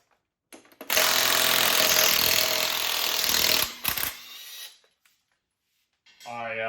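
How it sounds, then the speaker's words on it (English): An impact wrench (rattle gun) works on an EB Falcon, a loud, close, continuous buzzing rattle for about three seconds, followed by short bursts and quiet, then a voice begins speaking at the end. "I think I need to upgrade my rattle gun because this thing doesn't have the guts anymore."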